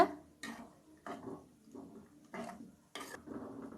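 A spoon scrapes and knocks against a pot while mixing pulicha keerai (gongura greens) kadaiyal, six or so separate strokes in an uneven rhythm, close and clear with no talk.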